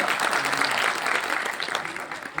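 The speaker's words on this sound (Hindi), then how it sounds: "जोरदार तालियों से" A crowd claps enthusiastically, dense applause filling the room and tapering slightly toward the end.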